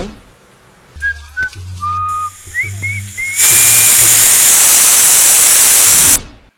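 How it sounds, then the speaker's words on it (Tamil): A pressure cooker releases steam while cooking village-style chicken biryani: a few thin, gliding whistle tones, then a loud, continuous hissing blast lasting about three seconds that cuts off abruptly. "வரும் பாருங்க விசில்."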